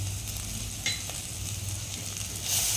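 Garam masala goes into a sizzling pan of leafy greens for anaemia-fighting rice and is stirred in, a steady close frying hiss with a few scraping stirs and a brief louder sizzle near the end, no talk.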